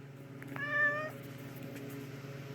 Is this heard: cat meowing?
yes